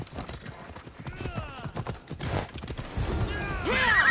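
Horse hooves gallop at a steady clip in Assassin's Creed Odyssey, rhythmic and close, with a brief whinny and voices near the end amid game ambience.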